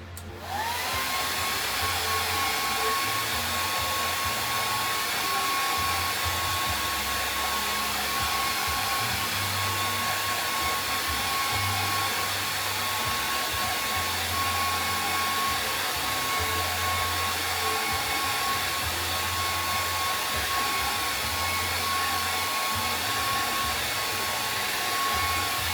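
A hair dryer runs continuously at close range, a steady loud whooshing roar with a constant high whine that holds unchanged for the whole stretch.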